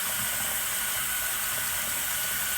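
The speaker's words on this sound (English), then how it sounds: "I've heard we can fill it up with the shower head." Water from a shower head fills the tub of a twin tub portable mini washing machine in a shower, a steady, even hiss and rush of spray lasting the whole moment, close and unbroken, with no talking.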